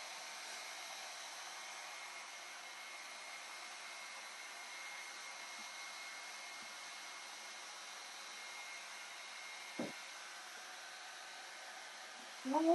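A 3-in-1 hot air styler blows on hair in a steady, even rush of air that holds unchanged for a long stretch at close range, with a faint thump and a brief rustle near the end.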